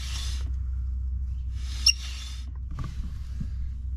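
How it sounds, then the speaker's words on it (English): The brake on a 2WD Chevy S10 wheel squeaks in three short, high, scraping bursts separated by pauses over a steady low hum, quiet and close, with no talking. "Here's the squeak I've been hearing."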